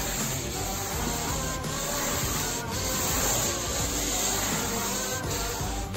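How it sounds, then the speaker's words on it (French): Soft cloth rubbed across a car dashboard to spread satin plastic cleaner, a continuous close swishing friction with faint periodic strokes. "Faut appliquer le produit sur le chiffon doux, puis répartir le produit"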